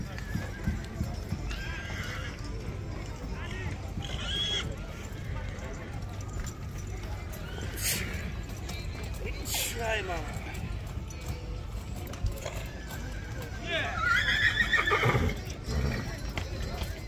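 Horses neigh and hooves clop at a horse fair in Marginea, Bucovina, amid a busy outdoor crowd; whinnies rise out of constant chatter, and one louder, closer neigh comes near the end.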